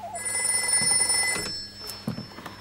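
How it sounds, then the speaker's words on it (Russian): An old-fashioned telephone bell rings in a household, a steady electric trill over a low background hum that lasts about a second and a half before fading into quieter room sound. "Миссис Картленд, вам звонит лакей лорда Маунтбеттена."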